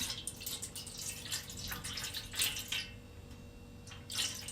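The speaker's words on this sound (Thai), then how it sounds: "ใส่น้ำกะทิลงครับ ลงไป น้ำกะทิสดลงไปเลยครับ" Fresh coconut milk poured into a pot for a cantaloupe-and-coconut-milk dessert, with a continuous close liquid splashing and trickling stream that ebbs and returns.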